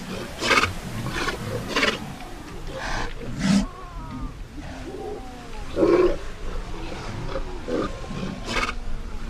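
Sea lions in a desert-coast colony on the Atacama shore bellow and roar in repeated loud, hoarse calls from several animals, some near and some further off, over a steady background din.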